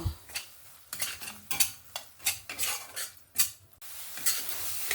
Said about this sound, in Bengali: ভালো কালারের জন্য একটু কাশ্মীরি লঙ্কার গুঁড়ো দিয়ে মশলাটাকে ভালো করে আবারও দু তিন মিনিট ধরে কষিয়ে নেব